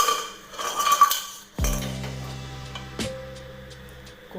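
A pressure cooker set down on a stove for making Kathiyawadi khichdi: a single loud metallic clunk that rings and fades, then a lighter knock, after some faint kitchen clatter.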